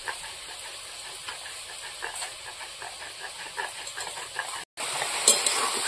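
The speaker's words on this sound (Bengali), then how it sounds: "হালকা করে হলুদ দেবো, দিয়ে এবার ঝিঙেটা ভালো করে কষিয়ে দেবো।" Ridge gourd with salt and turmeric is stir-fried in a pan, a steady soft sizzle and hiss with light, irregular stirring scrapes, briefly cutting out before resuming slightly louder.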